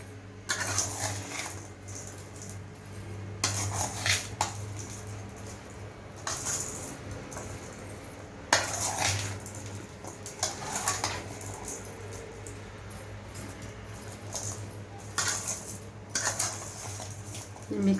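Mango pickle being stirred with rock salt in a bowl, giving repeated clinks and scrapes of a utensil with steady soft rattling throughout and no talking.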